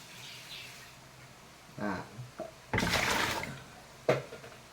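Water from a dipper is splashed out in three separate pours, short close gushes with quiet gaps between them and a final brief splash.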